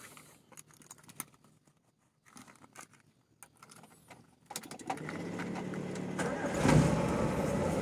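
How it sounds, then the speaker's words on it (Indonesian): A used Toyota Corolla's engine is started: scattered clicks and rattles lead to a brief crank, then the engine catches and settles into a steady, moderately loud idle, with no talk over it. "untuk mobilnya kita coba hidupkan ya"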